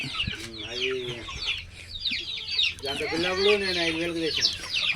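Repeated clucking calls from a fighting rooster nearby, in two drawn-out bursts, with birds chirping and people talking in the background.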